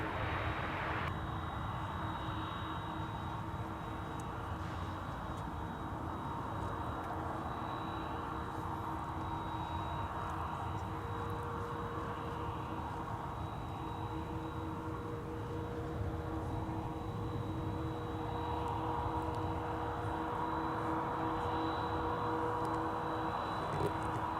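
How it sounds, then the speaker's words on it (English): Aircraft parked at the FedEx cargo terminal at Minneapolis–St. Paul Airport, a steady broadband engine roar with a faint tonal whine held throughout at moderate distance, no one talking. "We got an aircraft that's behind us at the FedEx cargo terminal. That's what you are currently hearing right now."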